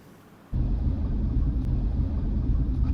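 A Jeep Grand Cherokee on steel springs rather than air suspension drives through open fields, its low, steady engine and road rumble starting abruptly and holding loud and close throughout.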